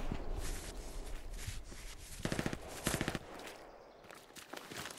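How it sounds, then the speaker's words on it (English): Gunfire in the Hell Let Loose video game comes as several bursts of rapid automatic shots and scattered single cracks at moderate distance. The shots are mixed with shuffling movement noise and a broad background hiss. "I don't see where this guy's shooting at me from, but he's shooting at me."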